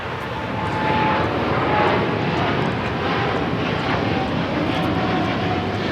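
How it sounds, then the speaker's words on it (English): Japan Airlines Boeing 787-9 Dreamliner in oneworld livery takes off from LAX runway 25 right, a loud, steady broadband jet roar that holds strong and close throughout, with a faint high whine riding on top. "we got the Japan Airlines Dreamliner. The One World livery now rolling down 25 right."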